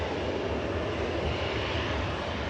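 Singapore Airlines A350 taxiing past at Manchester Airport, a steady low jet engine rumble and hiss heard at moderate distance, fairly quiet and unbroken.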